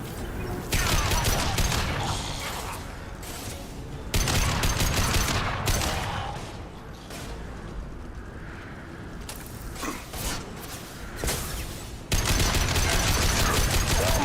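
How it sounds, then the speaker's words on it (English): Impact shot gunfire from the Mass Effect 2 video game, bursts of loud rapid shots in several bouts separated by brief lulls during a firefight. "Firing an impact shot."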